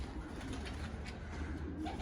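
Pigeons coo softly and continuously inside a loft, a close, low, bubbling murmur with no voices.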